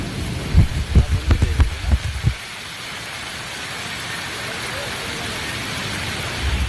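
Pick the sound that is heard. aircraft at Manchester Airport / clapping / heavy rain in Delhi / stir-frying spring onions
heavy rain in Delhi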